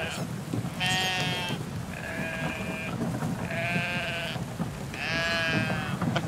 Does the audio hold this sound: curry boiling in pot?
no